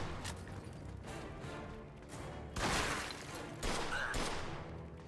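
Gunshots and bursts ring out in a burning building in the Mafia II video game, with a couple of louder blasts rising over a steady rumbling background.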